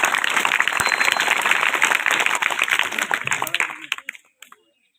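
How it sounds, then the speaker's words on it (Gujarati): Audience applause at a primary school quiz competition, dense sustained clapping from a crowd that fades out over the last second. "એમના માટે જોરદાર તાળીઓ."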